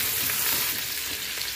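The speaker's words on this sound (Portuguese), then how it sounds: "Vou dar uma fritadinha leve" Smoked paio-style sausage fries lightly in a pan for a cassava and bacon soup, giving a steady, close, crackling sizzle throughout with no talking.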